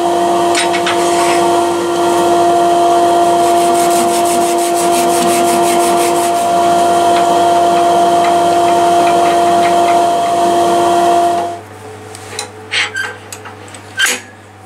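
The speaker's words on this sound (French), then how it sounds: "Je vais couper là la scie." A saw cuts cherry wood for a bird feeder in one steady, loud drone lasting about eleven seconds. It then stops, leaving a few light knocks and handling noises.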